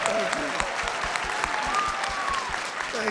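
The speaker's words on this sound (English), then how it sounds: "give a huge round of applause there for John Cleese" A live panel audience gives John Cleese a sustained round of clapping, dense and even throughout, with a voice heard briefly over it.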